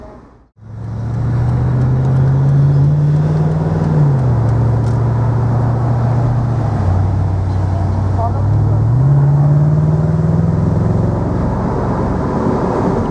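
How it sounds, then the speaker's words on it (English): A low-mileage 2003 Mercedes SL55 AMG drives along a road, its engine a steady, loud low drone rising and falling with throttle changes, with road and tyre noise throughout. "we'll just give you a buzz of the road in this low mileage SL55 AMG"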